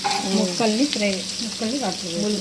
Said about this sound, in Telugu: చేపల ఫ్రై తిరగవేస్తారు.